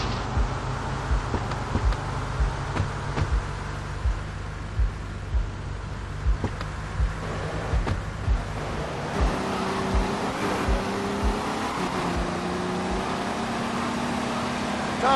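A car in Grand Theft Auto: Vice City drives with a steady engine drone that rises in pitch as it accelerates, with periodic bumps and clunks over the road and no talking.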